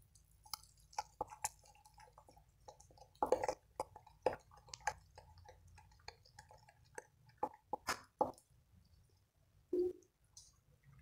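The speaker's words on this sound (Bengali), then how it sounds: "বেসনটা আমি গুলে নিচ্ছি।" Gram flour (besan) batter for pointed gourd (potol) chops, unsalted, mixed by hand in a bowl: close, wet squishing and dripping sounds in scattered bursts with quiet pauses between them.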